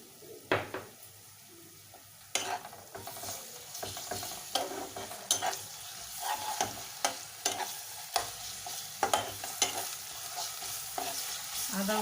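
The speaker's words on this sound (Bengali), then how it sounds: "আদা রসুনটা একটু ভাজা ভাজা হবে" Ginger garlic paste fries in a pan for a chicken vorta dish, a soft steady sizzle broken by repeated sharp scrapes and clinks of a spoon stirring against the metal, with no talking.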